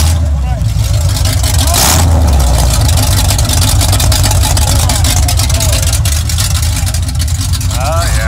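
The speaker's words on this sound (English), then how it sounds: "Somebody dropped the pipes. Yeah, took the mufflers off the exhaust collectors." An Oldsmobile Cutlass V6 runs with its mufflers removed and the exhaust collectors open, a loud, steady, raw rumble that fills the whole clip while voices talk over it.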